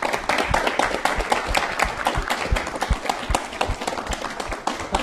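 Lively audience applause at an IIT JEE and physics olympiad guidance session, dense clapping from a crowd filling the space continuously with no voices over it.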